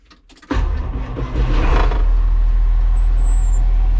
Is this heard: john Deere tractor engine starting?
yes